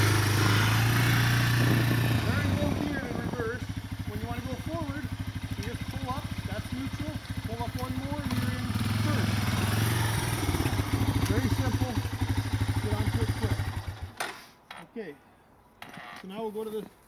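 A Honda Big Red three-wheeler engine runs steadily in low reverse gear, a loud, close, continuous mechanical drone with a voice briefly over it, before the engine cuts off abruptly near the end.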